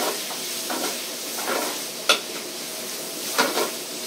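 Kkakdugi radish kimchi fried rice being stir-fried in a pan, with a soft steady sizzle and a few scraping, clinking stirs of a utensil against the metal, fairly close and without talk.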